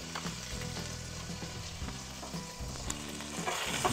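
Two large garlic cloves fry in the same hot pan, a continuous close sizzle with scattered scraping stirs and light taps of a spoon against the pan, no one talking.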